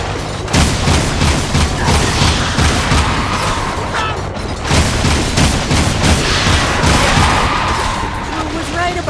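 Sustained gunfire in the video game Jak and Daxter, loud rapid bursts of shots and crashing impacts rolling on and off across several seconds, with a voice speaking over the barrage.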